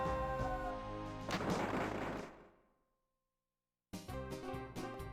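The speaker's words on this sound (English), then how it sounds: "Shoot the moose." A gunshot fired at a moose in the adventure game Freddy Pharkas: Frontier Pharmacist, a loud booming blast that decays into silence before another burst of game sound follows.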